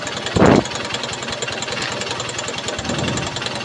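A Honda Shine motorcycle engine, its carburetor just cleaned and idle speed adjusted, rumbles steadily and loudly at an even idle throughout, with one short, louder burst near the start.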